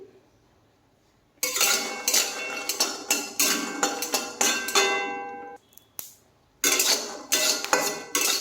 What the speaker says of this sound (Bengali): কিছুটা বাদাম আমি ভেজে নিচ্ছি।